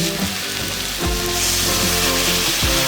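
Loud, dense sizzling of a squash and fish head stir-fry in a hot pan over high flame, with a few sharp bursts as water is poured in, close and continuous, with no talk.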